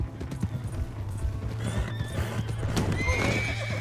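Horse clip-clopping at a gallop and whinnying loudly in Red Dead Redemption 2 during a train robbery, steady hoofbeats throughout with a sharp neigh near the end, faint voices and game ambience beneath.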